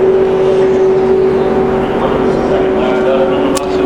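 A NASCAR Nationwide Series race car on a qualifying lap at Talladega Superspeedway drones with a steady high engine tone, loud and continuous, while a commentator talks over it.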